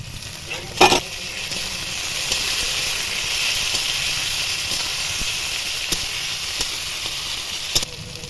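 Chopped tomatoes for ghugni fry in a hot pan, giving a loud, continuous hissing sizzle with a few sharp clatters of a utensil, and no voices.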